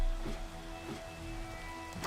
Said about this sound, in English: Nope, it's just rain.